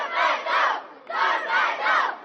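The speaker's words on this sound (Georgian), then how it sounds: "შავი და თეთრი ტორპედოს გულშემატკივარის ტრადიციული შეძახილია" Black-and-white Torpedo Kutaisi football supporters chant their traditional club cry as a large crowd, two loud rhythmic bursts of massed voices with a short dip between them.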